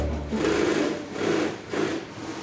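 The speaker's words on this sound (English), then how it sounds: "that's the sound of lots of sewing machines all working at the same time" Many sewing machines run at once in a rucksack factory sewing room, a dense whirring buzz that swells and dips in rhythmic waves, fairly loud and steady with no talking.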